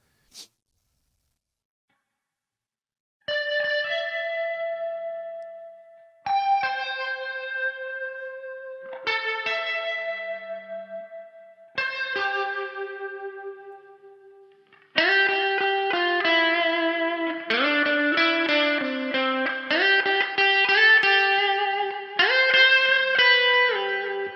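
Electric guitar recreating a Silent Hill 2 soundtrack tone plays four spaced, sustained notes that ring out with a spacious reverb tail, then shifts into a denser, faster strummed passage.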